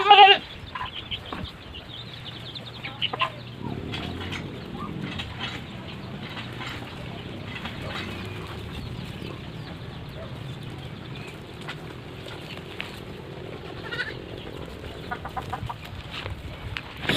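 Goats on a farm bleat in short, scattered calls over a steady low background, with chickens clucking among them, all at moderate distance.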